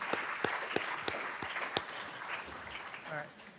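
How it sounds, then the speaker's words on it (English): Audience applause honoring student Lion ambassadors at a university faculty talk event, a steady wash of clapping with a few sharper claps standing out, fading near the end as a voice begins. "Big round of applause for our Lion ambassadors."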